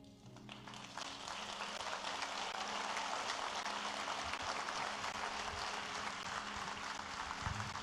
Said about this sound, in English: On l'applaudit encore plus fort.